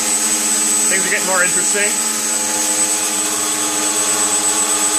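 A GimbalBot thrust motor spinning up to about 1400 RPM, a steady loud whining hum with tonal drone layers that holds throughout while someone talks briefly over it.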